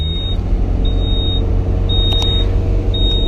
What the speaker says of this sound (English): It's beeping at me.